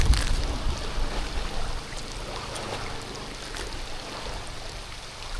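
Rain falls steadily around a small fishing boat at sea ahead of a typhoon, a dense, even hiss that swells slightly at the start before settling into a constant wash with no voices.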